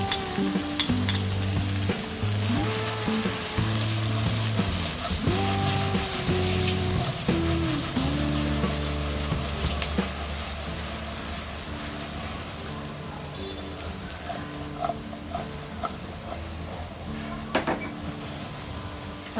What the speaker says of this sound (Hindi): हमने इसे 10 मिनट तक टॉस करते हुए फ्राई कर लिया है।